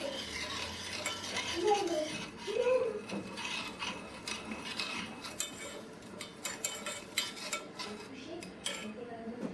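A mixture being stirred in a pan to melt it while making maki: continuous close scraping and rubbing of a utensil against the pan with light sizzling, a voice briefly speaking underneath.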